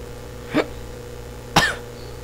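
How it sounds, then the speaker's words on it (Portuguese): Two short coughs about a second apart, close to the microphone, over a faint steady hum. "Engasguei aqui, tossi, nossa."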